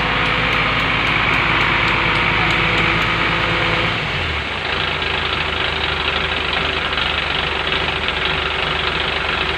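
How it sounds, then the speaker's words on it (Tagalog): A car engine runs steadily close by during typhoon damage work in a residential village, its loud low hum and rough vibration filling the clip. The idle shifts to a different, slightly lighter tone partway through. "hindi nyo ako maririnig dahil yung makina ng sasakyan"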